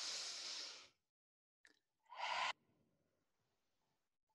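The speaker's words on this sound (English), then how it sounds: "inhale through our nose and exhale through our open mouth" Forceful open-mouthed exhales from a breathing exercise: a long breathy rush of about a second, then after a pause a brief catch and a second strong, shorter exhale, both close and loud with near silence between.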